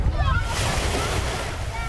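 Surf rolls in at a Connecticut beach on a hot summer day, a steady wash of waves mixed with wind buffeting the microphone, and a voice speaks over it.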